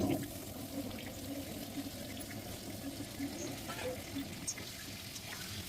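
Potatoes fry in hot ghee mixed with white oil, giving a continuous, moderately loud sizzle with a crackling texture that stays steady throughout.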